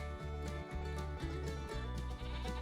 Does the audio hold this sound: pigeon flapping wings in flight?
no